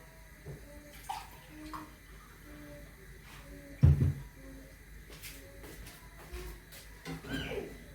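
Water pours steadily with a soft, continuous rush, like a bath or basin filling, and a faint voice murmurs in the background.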